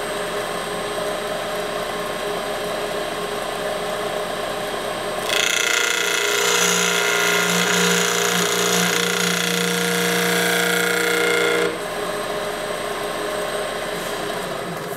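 A spindle gouge cuts a chamfer on wood spinning on a lathe, a steady scraping hiss lasting several seconds over the lathe's constant motor hum, which runs alone before and after the cut.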